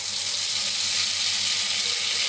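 Cumin seeds sizzle and crackle in hot oil in a home kitchen pan, a close, steady hiss with a faint low hum beneath it, heard alone for a moment.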